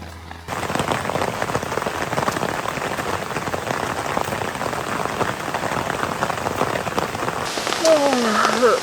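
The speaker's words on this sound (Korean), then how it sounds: "오늘은 빗소리 ASMR도 있으니까 자연 소리 들으면서 숙면을 취해볼게요" Heavy rain pours steadily onto a small tent at a solo camp in a downpour, a dense, close, continuous patter that stays loud from start to finish with no voices.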